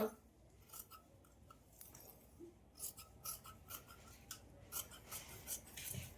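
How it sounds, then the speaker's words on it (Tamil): Tailoring scissors snip through cross-cut blouse fabric in a series of close, crisp cuts and sliding rasps, quiet and irregular, with no voices. "இதை வந்து நம்ம இப்படி கட் பண்ணி எடுத்துக்கலாம்."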